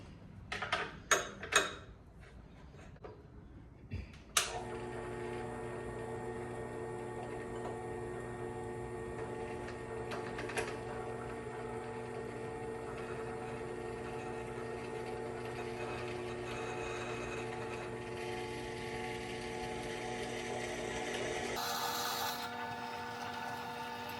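A few clattering knocks, then a drill press motor starts and drones steadily for a long stretch while drilling metal, before abruptly shutting off.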